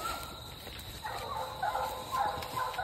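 Raccoon-hunting hounds baying in the distance, faint drawn-out cries rising and falling over a hissy outdoor background, with no talk.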